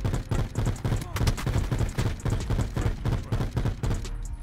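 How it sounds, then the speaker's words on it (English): Rapid, steady streams of rocket-bullet gunfire from an impact blast operator mod in a video game, dense repeated blasts throughout at close range with faint game noise underneath. "it shoots like fire bullets or rocket bullets at people"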